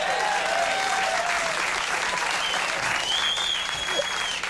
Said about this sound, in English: The huge crowd roar for Steppin' Out.